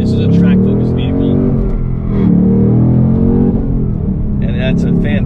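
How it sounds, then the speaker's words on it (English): A 2024 Ford Mustang Dark Horse V8 rumbles loudly from inside the cabin, its deep engine note swelling and falling with revs while people talk over it throughout. "That's a fantastic sound from the V8."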